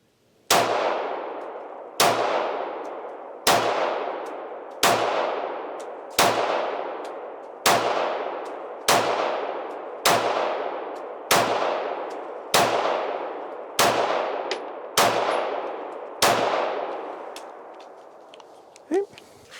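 Smith & Wesson Equalizer pistol shots fired one at a time at a steady, deliberate pace, thirteen sharp loud reports each ringing out briefly before the next, with no talking.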